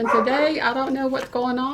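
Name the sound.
Yorkie dogs barking in background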